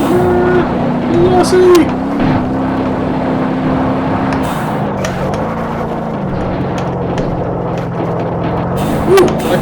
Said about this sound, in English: Speed, putting this throttle down.